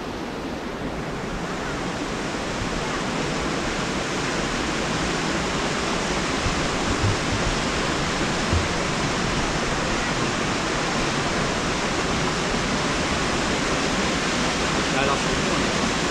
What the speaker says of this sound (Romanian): Vezi cum curg picături de apă